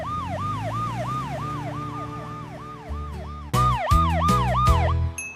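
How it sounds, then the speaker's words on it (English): A police car siren wails in a steady rising-and-falling pattern, loud and continuous, with a harsher, pulsing siren blast cutting in near the end. "The police car goes woo, woo, woo, woo."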